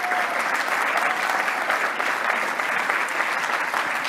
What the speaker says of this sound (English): So a round of applause for all of our speakers.